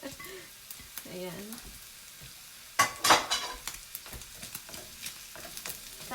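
Garlic and onion hit a hot pan for a stir fry of mushroom, green beans and minced pork, bursting into a loud sizzle and crackle as they are stirred, with a brief spoken word before.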